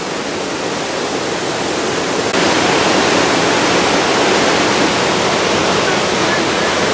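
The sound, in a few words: Pailón del Diablo waterfall rushing water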